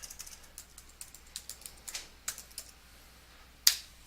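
Password being typed on a computer keyboard in a Kali Linux terminal, a quick irregular series of soft key clicks ending with one sharper, louder keystroke, close and alone.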